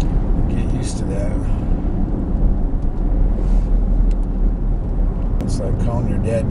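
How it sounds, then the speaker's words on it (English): A 2017 Dodge Durango Citadel SUV driving on a Rocky Mountain road while towing an ATV trailer, heard from inside as a steady, loud road rumble and wind noise beneath ongoing conversation. "Glide along in our Dodge Durango."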